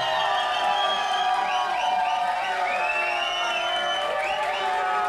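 A studio crowd at a televised talent competition cheers loudly for a contestant. Piercing whoops and shouts sit on top of steady clapping, and the noise stays constant for about five seconds.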